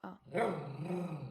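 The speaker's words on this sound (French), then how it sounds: "on parle d'un aboiement de chiot de 3 mois" A three-month-old puppy gives a short, sharp yelping bark up close, mixed in with a voice talking over it.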